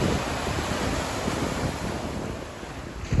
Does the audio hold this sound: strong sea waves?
yes